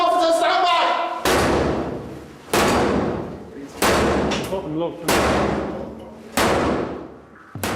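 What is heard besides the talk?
police heavy enforcer battering ram thumping a door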